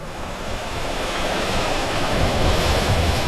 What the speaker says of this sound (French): par des vents violents et d'énormes vagues